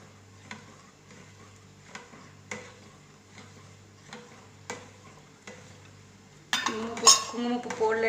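A spoon stirs saffron into milk in a small vessel at home while kulfi is being made, giving faint regular clinks against the metal every half second or so, then ends in a louder clatter of dishes.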